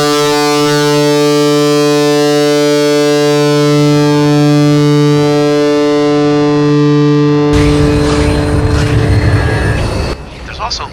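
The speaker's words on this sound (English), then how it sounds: "And at full gain, there's quite a bit of jagged, cutting sawtooth distortion and sustain." A heavily overdriven electric guitar played through an overdrive pedal at full gain rings out with a sustained, buzzy, saturated tone, then a burst of harsher, noisier strumming before it cuts off.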